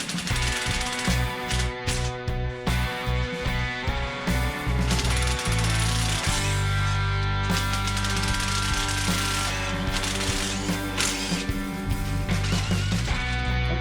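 A powered ratchet loosens the head bolts on a Briggs and Stratton V-twin engine from a Cub Cadet. It rattles close and loud in repeated bursts with a harsh mechanical hum, no talking.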